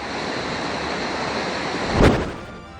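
Floodwater rushing along a normally dry creek after days of heavy rain, a steady broad roar throughout with a brief louder surge near the end, no voices.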